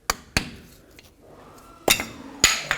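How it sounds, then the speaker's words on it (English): A screwdriver prying the axle cap off a 2007-14 Chevy Silverado front hub, giving several sharp metallic taps and clinks with quieter scraping between them, close and unaccompanied by speech. "and pry the cap right off"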